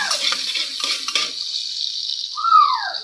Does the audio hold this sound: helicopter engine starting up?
no